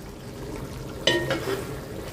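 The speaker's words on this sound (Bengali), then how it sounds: "তো এখন হচ্ছে আমি আবার একটু নেড়ে চেড়ে দিব।" A spoon scrapes and stirs tehari, spiced rice and meat, in a cooking pot over a steady low sizzle, with one brief sharp clink of utensil on metal partway through.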